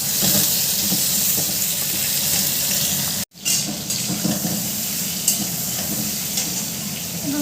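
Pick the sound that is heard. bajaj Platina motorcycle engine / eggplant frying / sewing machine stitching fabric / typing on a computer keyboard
eggplant frying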